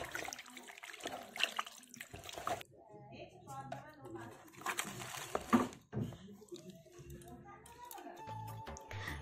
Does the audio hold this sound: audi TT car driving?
no